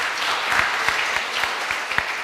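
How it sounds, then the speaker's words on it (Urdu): Audience clapping steadily at a mushaira, an Urdu poetry gathering in Wimbledon, with dense, even hand claps and no voices. "ایک دفعہ بھرپور تالیاں ہونی چاہیے پروفیسر صاحب کے لیے"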